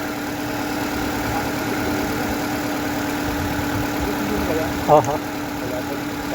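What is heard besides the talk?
Nissan Grand Livina 2009 engine running after timing chain job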